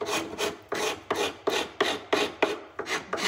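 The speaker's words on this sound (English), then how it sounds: "we've got a bunch of old glue here that we can scrape off, glue and dust" Old glue and dust are scraped off the wood of a 200-year-old clock cabinet in about eight quick, rhythmic rasping strokes, close and fairly loud, with no voices.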